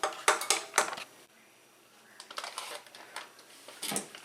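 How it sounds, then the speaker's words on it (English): Spatula scraping carrot cake batter down the sides of a mixing bowl, a few quick scratchy strokes, then a pause and more uneven scraping and tapping close by, with no talking. "Gonna scrape the sides of your walls down,"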